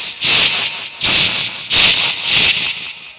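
A performer's voice mimics a pressure cooker whistle in four quick, loud, hissing bursts at an even rhythm, close and clear, with no talking over it.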